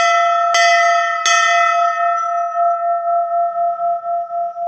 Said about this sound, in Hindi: घंटा का आवाज़ बहुत जोर से गूंजता है यहाँ पे